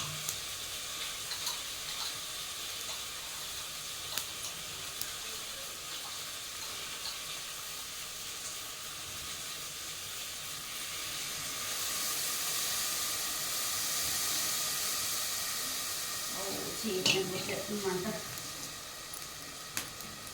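Tempering spices sizzling in hot oil in a pan for a curry, a steady crackling hiss that swells midway, with stirring scrapes and clinks near the end.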